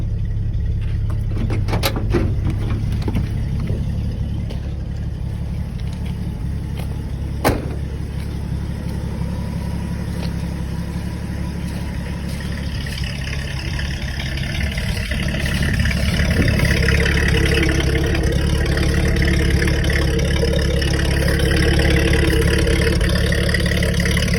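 A 1986 Ford bullnose pickup truck's engine runs at a steady close idle, with a few sharp clicks early on and a fuller, slightly louder engine note over the last several seconds.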